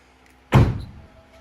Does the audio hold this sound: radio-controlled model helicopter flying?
no